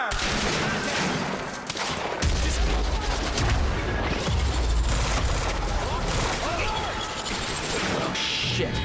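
Sustained gunfire and heavy explosive crashes in the video game Quantum Break during a garage escape, loud and continuous throughout with bursts layered under a busy game mix and occasional voices.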